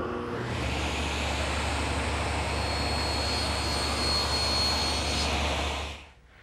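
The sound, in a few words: table saw making shoulder cuts for tenons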